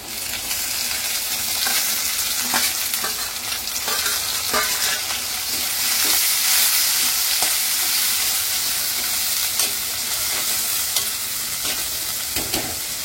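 Mussel meat sizzles steadily in a pan of hot browned onions for a Mangalorean-style masala dish, with a continuous loud fry and occasional scrapes of stirring, and no talking.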